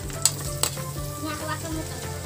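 Garlic sizzling in a frying pan while adobo of chicken liver and gizzards cooks, a steady close hiss with two sharp clinks of a utensil against the pan early on.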